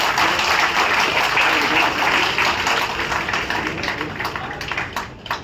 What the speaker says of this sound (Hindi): प्लीज तालियों से स्वागत करिए।